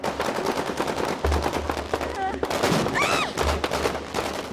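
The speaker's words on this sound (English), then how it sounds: "The noise in here while they're firing is deafening" Rapid bursts of blank gunfire crack out indoors during a film stunt scene, loud and dense, with voices shouting over the shots.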